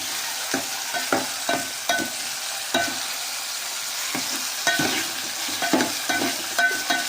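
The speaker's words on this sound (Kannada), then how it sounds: "ನಂತರ ಕಟ್ ಮಾಡಿರುವಂತಹ ಟೊಮೊಟೊ ಹಾಕಬೇಕು. ಚೆನ್ನಾಗಿ ಫ್ರೈ ಮಾಡಬೇಕು." Chopped tomatoes frying in a pan, a loud close sizzle punctuated by regular scraping stirs of a spatula, about a dozen strokes with short pauses between.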